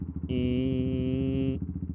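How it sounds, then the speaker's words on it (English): A motorcycle engine revs to redline and holds against the limiter, a loud sustained high-pitched whine between low idling putters before and after. "I prefer just to redline it, because it bounces off the limiter"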